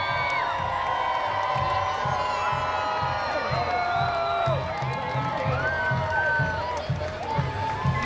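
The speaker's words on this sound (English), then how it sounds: "you can hear the screams of just everybody getting out their camera phones" A large crowd at the LSU championship parade screams and cheers continuously, dense overlapping high-pitched voices over a rumbling background, sustained and loud throughout.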